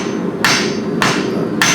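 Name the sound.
hammer forging a copper ladle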